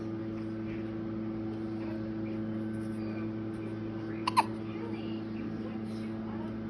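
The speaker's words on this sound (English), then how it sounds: "With your hiccups." A newborn baby girl lets out one brief, soft hiccup partway through, set against a steady low background hum.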